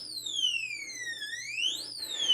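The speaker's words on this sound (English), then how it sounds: "There's a little audible alarm." The audible alarm of a Kaer budget gun safe sounds as a loud, continuous electronic tone that sweeps steadily down and then back up in pitch, with no talking.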